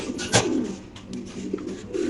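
A male Mundian pigeon coos close by, one fuller call near the start over a soft, steady background hiss.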